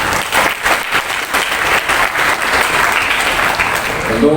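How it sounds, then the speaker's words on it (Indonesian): Applause from the audience at a school graduation ceremony for ninth graders, loud and sustained clapping from a large crowd that holds steady throughout, with a faint voice coming in near the end. "Boleh tepuk tangan."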